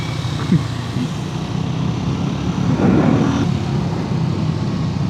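Three Triumph Tracker 400 motorcycles ride together with a low, steady rumble under wind noise, swelling briefly louder near the middle before settling back.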